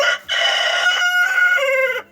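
A single drawn-out hen call, loud and close, holding a harsh, tonal squawk for about two seconds before stopping.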